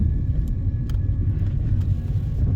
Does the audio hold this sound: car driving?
yes